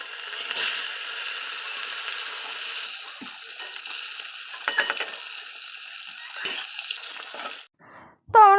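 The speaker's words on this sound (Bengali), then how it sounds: "কড়াটা আমার গরম হয়ে গেছে তো মাছটা আমি ভেজে নিচ্ছি" Fish frying in a hot wok (kadai), a steady hiss of oil running through with small bursts of spatter, fairly close, before a sudden drop to near quiet at the end.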